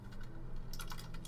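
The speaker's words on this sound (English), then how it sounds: "Oh, my typing and clicking is so loud." Loud computer keyboard typing and mouse clicking, a close burst of quick clattering keystrokes over a low background hum, with no talking.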